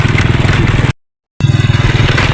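A motorcycle engine runs close and loud while riding, with a rapid pulsing throb that drops out briefly in a sudden gap before resuming at the same steady chug.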